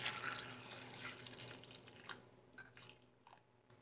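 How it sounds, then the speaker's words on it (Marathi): Water is poured into a pot of peeled drumsticks, a steady splashing, trickling stream that fades toward the end, with no talking. "आता ह्याच्यामध्ये मी ह्या शेंगा बुडतील एवढं पाणी घालणार आहे"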